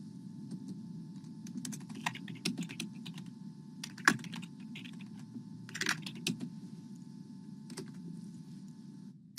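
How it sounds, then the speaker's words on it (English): Steady keyboard typing with scattered louder key clacks, close and continuous over a low background hum. "Is that what I sound like when I'm typing?"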